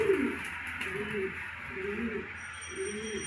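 A short-tailed pigeon coos close by, three soft rolling coos in an even rhythm over a faint background hum.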